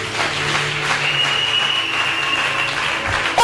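A church congregation applauding during a Sunday service, a dense, sustained wash of clapping that stays loud and even throughout, with a held tone ringing underneath.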